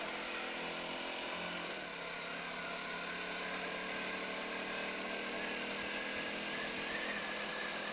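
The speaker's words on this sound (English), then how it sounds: "not at all shabby, the pull on this engine" A BSA Bantam motorcycle engine runs steadily throughout, a continuous close drone with a rough mechanical texture and constant loudness, no voices.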